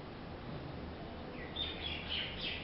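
A baby bird that cannot fly chirps in short, faint high tweets in the second half, beside a dog guarding it, over steady low background noise.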